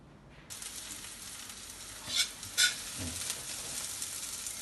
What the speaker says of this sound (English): So we will go now to the wet kitchen to start frying the bee-hoon